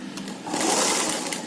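A sewing machine stitches a frilled pillow cover in a short close burst of rapid whirring that swells and then eases off.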